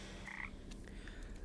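Frogs in the video game PaPo & Yo croak faintly in a few short, scattered calls over a low background hum. No one speaks.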